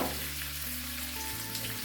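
Onions frying lightly in a pan for a courgette curry give a steady, close sizzle with no voices, lasting just under two seconds.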